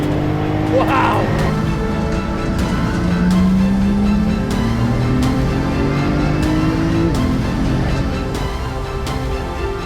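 A 700-horsepower Porsche 911 GT2 RS Clubsport race car engine roars loudly and close, climbing in pitch as it accelerates, with a voice exclaiming once over the noise.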